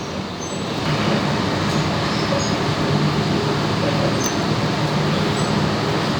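Sydney commuter train riding between stations, a steady loud rumble of wheels and carriage noise with low droning hum and faint high squeaks, no voices.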